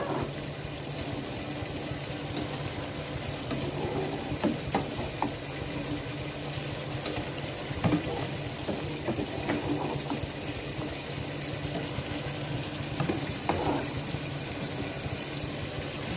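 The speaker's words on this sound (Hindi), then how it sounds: "चलिए बस अब मैं इसको भून रही हूँ" Makhni koftay (meatballs) frying in a pan on a home stove, a steady sizzling hiss with soft bubbling pops running throughout, fairly close and alone without talk.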